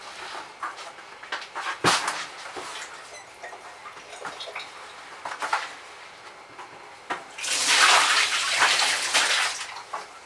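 A dyed t-shirt wrung out over a sink, with scattered wet drips, splashes and small knocks, then a longer burst of running, splattering water near the end.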